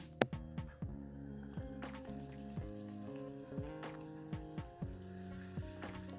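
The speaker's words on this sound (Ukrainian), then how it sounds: "опускаємо у олійку та смажимо" Hot oil sizzles and crackles steadily as dough balls fry, with scattered pops and a low hum, no voices present.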